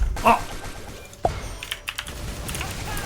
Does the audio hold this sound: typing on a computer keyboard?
yes